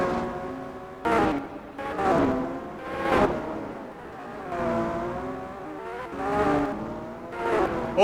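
A Toyota GT1 race car in Gran Turismo 4 revs hard, its engine note climbing and dropping through repeated gear shifts in close, loud surges, with no one talking.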